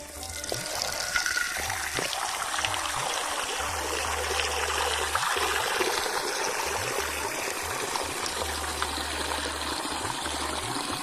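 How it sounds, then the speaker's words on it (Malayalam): Fish being washed with salt under running water: a steady stream splashes and trickles close by with intermittent low knocks, continuous throughout. "കുറച്ചിങ്ങനെ ഉപ്പിട്ടിട്ട് നല്ല വൃത്തിയായിട്ട് കഴുകുക"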